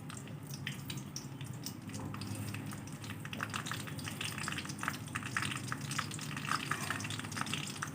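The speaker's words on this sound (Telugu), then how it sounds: "ఒక గరిటె ఆయిల్ వేసుకుని పండుమిర్చి వేసుకుని ఫ్రై చేసుకోవాలి." Ripe red chillies frying in a ladleful of oil, giving a soft, continuous crackle and light popping that stays faint and even from start to finish.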